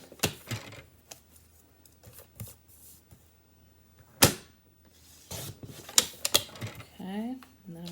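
Scissors cut through a paper envelope to make a gift card holder, sounding as a few sharp, close snips and paper rustles with quiet gaps between them, and someone talks briefly near the end.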